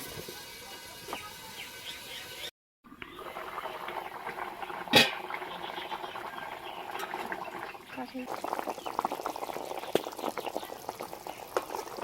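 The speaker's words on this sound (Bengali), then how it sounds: "ঢাকা দিয়ে আলুগুলো সেদ্ধ করে নেব।" Potatoes boiling in a covered pot for a potol dish, a soft bubbling simmer with faint patter, interrupted briefly by a silent gap and a sharp knock.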